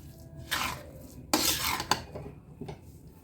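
A spoon scrapes and stirs as jaggery is mixed into a fenugreek laddu mixture in a pan with the gas off, three or four gritty bursts of scraping separated by brief pauses.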